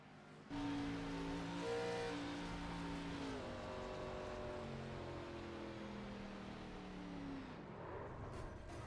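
A race car engine in the iRacing video game at Watkins Glen revs and drops through several quick downshifts, the pitch stepping down in stages before fading, fairly quiet throughout.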